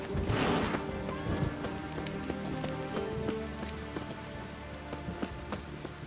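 Rain falls steadily in the video game The Witcher 3: Wild Hunt, a dense patter that is loudest at the start and then settles into a softer, even wash. Faint background game sounds sit underneath.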